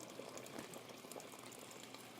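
Hot water pouring into a pot for cooking rice, a steady liquid rush and fill that runs continuously at moderate level, with no voices.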